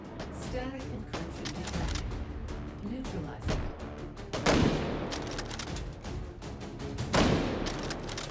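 Gunfight in the VR shooter Hot Dogs, Horseshoes & Hand Grenades, with a thrown grenade going off: a steady close clatter of shots, broken by two heavier booming blasts, one near the middle and one toward the end.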